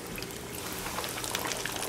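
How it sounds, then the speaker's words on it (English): Chicken wings for Parmesan garlic wings dropped into hot frying oil, a steady close crackling sizzle with fine pops and bubbling throughout. "I dip one in, and you see how it's bubbling?"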